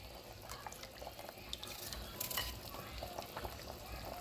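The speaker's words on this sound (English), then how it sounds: "So now this is clean water. Rinse my knife off." Tap water runs over a kitchen knife while a veggie soup is being prepared, a soft continuous splashing and hiss with small clinks and drips, steady and close, without talk.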